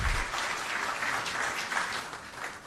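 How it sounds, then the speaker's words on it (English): A crowd applauds steadily throughout at a Chief Justice swearing-in ceremony at Jubilee House, a dense, even wash of clapping heard from a moderate distance. "Shall we please welcome him with a big round of applause?"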